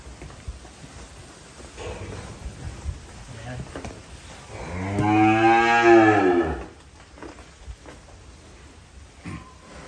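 An Angus cow gives a single long, loud moo near the middle, close by, with quieter farm background before and after.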